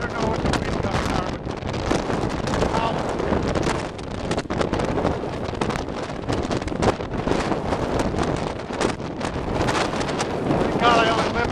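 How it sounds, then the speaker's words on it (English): Strong wind of about 40 to 60 roars during a 2011 snowstorm over an expressway, buffeting the microphone in loud, continuous gusts while someone talks through it. "Wind was blowing at least 40 to 60."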